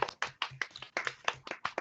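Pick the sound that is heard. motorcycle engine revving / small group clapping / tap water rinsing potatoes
small group clapping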